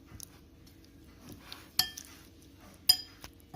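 Paneer cubes being mixed into batter in a bowl: a few faint, sparse clinks of a utensil against the bowl over a quiet background.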